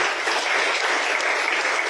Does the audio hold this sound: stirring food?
no